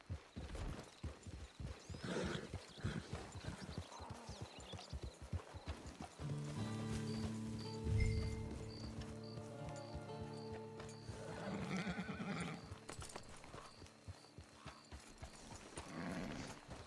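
Rhythmic clip-clop of horse hooves in Red Dead Redemption 2 runs through, with the horse whinnying partway and a steady game-style musical backdrop; a voice speaks briefly.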